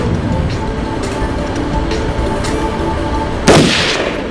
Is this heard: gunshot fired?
yes